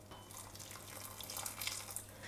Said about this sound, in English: And then I'm going to add in some hot water here.